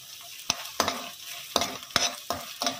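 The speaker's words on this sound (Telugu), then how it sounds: "కొంచెం చిల్లీ సాస్ వేసి వేయించుకోవాలి." Chili sauce frying in a pan for veg manchurian, stirred with a series of sharp, close scraping strokes that come in an uneven rhythm over a soft background sizzle.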